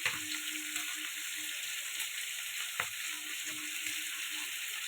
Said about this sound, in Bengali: এটা ভালো করে কষাতে থাকবে।